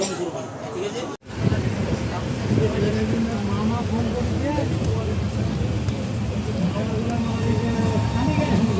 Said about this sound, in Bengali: ট্রেনে উঠে গিয়ে বসেও পড়েছি, হাওড়া বালুরঘাট এক্সপ্রেস